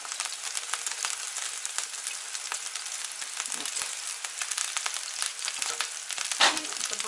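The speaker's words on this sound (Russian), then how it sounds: "И здесь мы обжариваем уже вторую." Pork pieces sizzle steadily in a pan after the meat juices are drained, a close continuous frying hiss with small crackles and one brief louder stir near the end.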